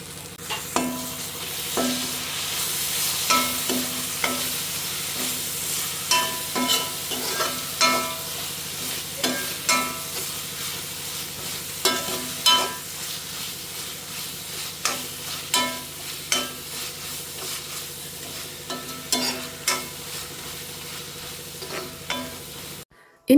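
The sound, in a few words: crushed ginger and garlic frying with onions for beef curry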